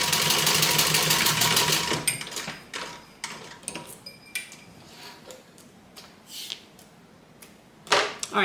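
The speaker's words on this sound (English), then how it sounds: "I'm going to sew 1/4 inch from the edge" A home sewing machine stitches a bag seam a quarter inch from the edge, running in a loud steady whir for about two seconds, then stopping into quieter clicks and handling noises.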